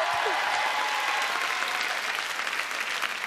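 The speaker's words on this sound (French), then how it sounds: "Mesdames, messieurs, applaudissements." A studio audience on a French television show breaks into sustained applause, a thick, continuous patter of many hands that stays loud and even throughout, with a brief voice at the very start.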